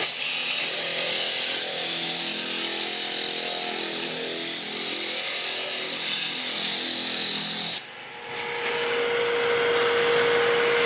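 Wood spins on a lathe while 100 grit sandpaper is held against it, making a loud, continuous rushing hiss over a motor drone that cuts off near the end and leaves a quieter hum.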